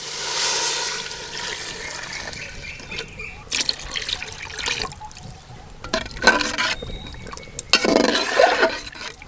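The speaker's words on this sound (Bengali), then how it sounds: "জল দিয়ে দেব।" Water poured into a pan of lightly fried vegetables and chicken pieces for momo filling, a continuous close splashing and trickling with a few louder sizzling bursts near the end.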